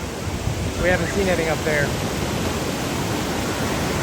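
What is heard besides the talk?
ocean waves on beach at Wildwood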